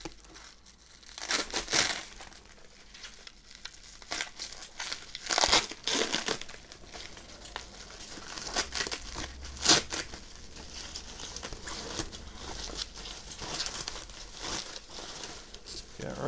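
Crinkly plastic packaging is pulled and torn away from the box of a Pro-Race UK Black Slash Cut GP-S1 exhaust for a 2020 BMW S1000XR motorcycle, giving close, irregular crackles and rustles with people talking.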